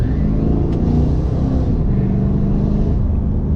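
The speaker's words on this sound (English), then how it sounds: "Yeah, put in 4x4, let's floor it." A Nissan Titan XD pickup with the Cummins diesel, in 4x4 on a slippery road, pulls away under full throttle as a steady, heavy engine roar heard from inside the cab with no talking.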